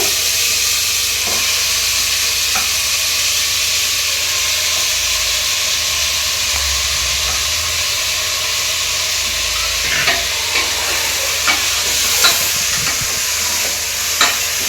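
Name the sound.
half kilo mutton frying in tempering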